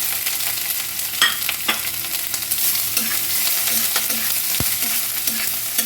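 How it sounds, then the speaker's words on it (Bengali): Garlic and chopped onions fry in a pan with a steady, close sizzle. A few sharp clinks and scrapes of stirring cut through it, and no one speaks. "রসুনটা আমার হালকা ভাজা হয়ে গেছে, এবার আমি পেঁয়াজ কুচিগুলো দিয়ে দেবো।"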